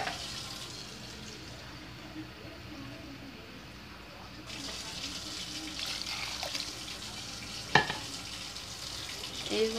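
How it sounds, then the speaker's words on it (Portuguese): Water poured from a tap into a soup pot to cover vegetables runs as a steady wash of rushing sound, brightening midway, with a brief clatter near the end and no talk. "Deixa eu pôr um pouco mais de água até tampá-los."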